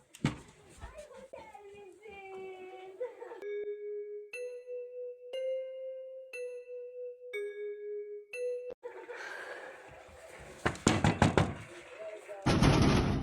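Someone knocks on a door and a doorbell chimes repeatedly in clear, evenly spaced tones, with a voice and agitated knocking before and after, close and loud.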